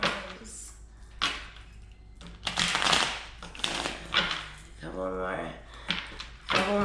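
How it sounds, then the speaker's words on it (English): Tarot cards being shuffled by hand, a series of riffling and tapping bursts at close range with brief pauses between them, and a short stretch of talk in the middle. "Couple more shuffles, guys."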